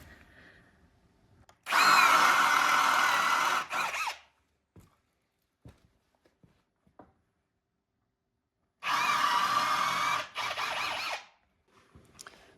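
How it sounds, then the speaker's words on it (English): Two bursts of a whining power drill boring into wooden boards, each about two seconds, separated by quiet with small clicks and knocks, close by. "So we just got to drill it to the depth of the bit."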